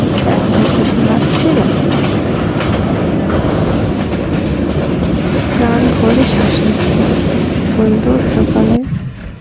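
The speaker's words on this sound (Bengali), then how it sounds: "এই প্রথম কালি ট্রেন চলে গেল শ্রীনগরের উদ্দেশ্যে" A train rolls past on its way to Srinagar in a steady, loud rumble with clattering wheels and brief squeals. Faint voices sit beneath the noise before it cuts off near the end.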